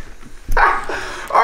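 A dog indoors at home gives two short, close barks or yips a moment apart.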